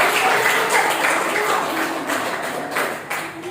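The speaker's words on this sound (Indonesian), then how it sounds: "kita tepuk tangan buat Mas Said" Audience applause at a talk-show style event, steady dense clapping that fills the whole moment and tapers slightly toward the end, with faint voices mixed in.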